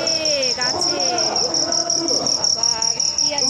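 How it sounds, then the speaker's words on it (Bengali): Crickets chirp steadily from a tree at night in a village, a continuous shrill trill that holds close and fairly loud throughout, with a few softer incidental sounds mixed underneath. "ওই দেখো ঝিঝি পোকা ডাকছে গাছে।"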